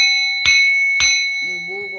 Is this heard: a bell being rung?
yes